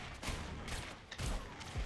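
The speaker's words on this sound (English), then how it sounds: "Mortar shot. It's so intimidating. The sound is so scary." Booming mortar shots from the video game ROUNDS land in a loud, dense burst, several heavy impacts and rumbling blasts rolling over one another within a couple of seconds.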